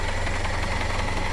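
A Toyota LiteAce 5K engine idles steadily after a top overhaul, a close, constant low rumble with a faint rhythmic knocking running through it and no speech.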